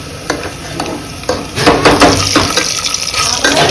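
Masala paste being stirred into browned onions frying in a pan for veg pulao, with steady sizzling under repeated scraping and stirring strokes, close and fairly loud, no talk.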